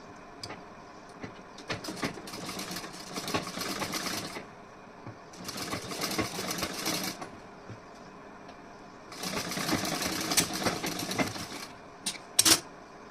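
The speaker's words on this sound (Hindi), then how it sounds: "अब यहाँ पे भी मैं सिलाई लगा दे रही हूँ।" A sewing machine stitches along the edge of fabric for a decorative neckline, running in three steady bursts with short pauses between them, fairly close and clear, with no talk.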